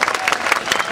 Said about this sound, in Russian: аплодисменты Виктору Басюку